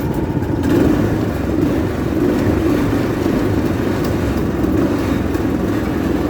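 A 420cc Predator go-kart engine runs rough and close, its mid-pitched drone wavering and surging unevenly as it struggles to stay running, no speech.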